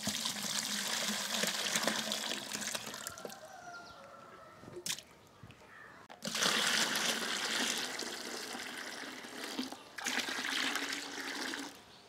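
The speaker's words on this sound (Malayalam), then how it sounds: "ഇത് നമുക്ക് ഇനി ഒരു 3 ഇരട്ടിയും കൂടെ വെള്ളം ചേർത്ത് നമുക്ക് ഇത് ഒഴിച്ചു കൊടുക്കാം." Diluted banana peel liquid fertilizer poured onto okra plants in a home garden, a steady splashing stream of liquid that stops briefly twice and resumes, close and fairly loud.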